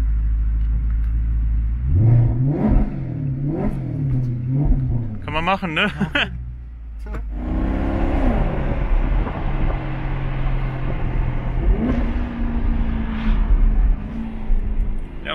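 A Lamborghini engine revs in several rising and falling sweeps, with a sharp loud burst, then settles into a steady, heavy driving roar; people talk over it throughout.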